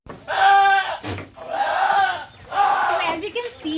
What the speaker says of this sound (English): So as you can see the Barbary goats behind me,